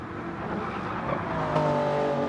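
A Toyota Supra race car in a racing video game at Interlagos hums with steady engine noise, the pitch climbing as it revs up, continuous and moderately loud without talk.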